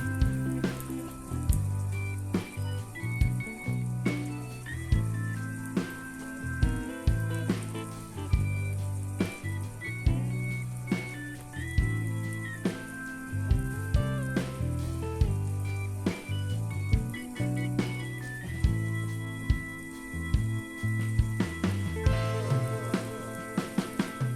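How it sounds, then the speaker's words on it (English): A cheese sandwich fries in a pan over low heat with a soft, steady sizzle, heard beneath a bright, rhythmic music track that plays throughout. "Fry over low heat for 2 minutes on each side."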